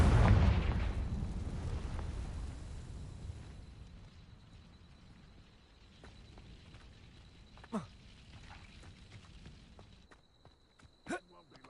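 The Confringo blasting curse in a Harry Potter video game goes off as a big close explosion that rumbles and slowly fades, followed by a few faint pops and footsteps.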